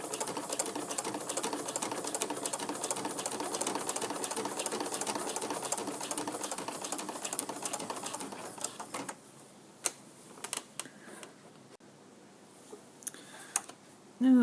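A sewing machine stitches an appliqué close to the fabric edge for a quilt project, running steadily and rapidly for about nine seconds, then stopping and leaving only scattered clicks and light handling noises.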